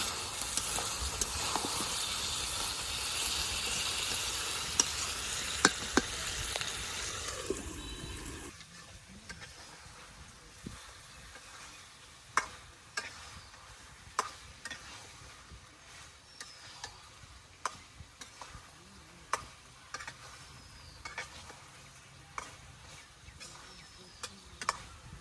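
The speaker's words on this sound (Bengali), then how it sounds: "মাংসটা খুব ভালোভাবে কষিয়ে নেব" Chicken meat sears and is stirred in a pan: a strong hissing sizzle for the first several seconds, then a quieter simmer marked by scattered sharp clicks and scrapes of the stirring utensil.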